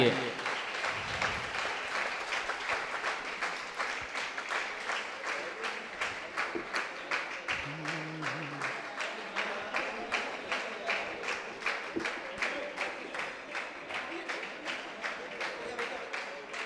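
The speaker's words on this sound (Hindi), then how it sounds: "जब तक पूज्य महाराज श्री का पाद प्रक्षालन चल रहा, सभी की तालियां बजती रहनी चाहिए।" A temple congregation claps steadily and rhythmically throughout a foot-washing ceremony for a revered monk, a sustained unbroken wave of hand claps with faint voices beneath.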